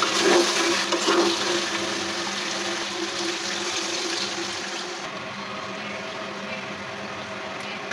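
Water goes into a pot of country chicken curry with potatoes, a loud continuous rushing pour close by that settles into a steadier flow, with no talking.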